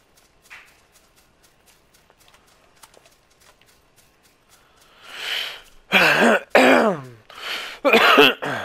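A man with a recurring scratchy throat clears it several times, loud and close, in short harsh bursts during the second half, after quiet faint background sounds from a PUBG match on Sanhok.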